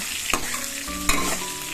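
Potatoes frying in oil for chicken dum biryani: a close, continuous sizzle with two sharp stirring clacks of a utensil against the pan.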